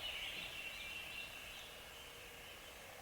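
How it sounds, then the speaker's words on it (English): Wild turkey gobbling from its roost at dawn on public land, a faint, distant rolling call over a steady hiss of background ambience, with no talking. "We got us at least one turkey firing off here in front of us."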